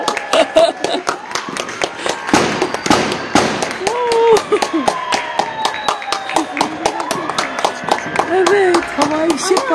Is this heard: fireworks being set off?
yes